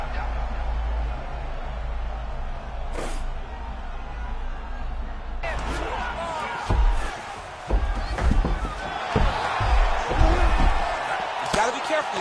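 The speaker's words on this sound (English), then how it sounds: "Huge ground and pound strikes finding the home" Heavy ground and pound strikes thud in a fight as a crowd roars and sways, with a commentator talking over the impacts.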